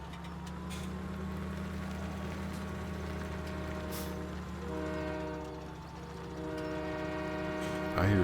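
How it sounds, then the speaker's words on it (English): A train rumbles past in Farming Simulator 17, a steady low engine drone with sustained horn-like tones layered over it, fairly quiet and continuous, ending in a louder burst. "I hear you, train"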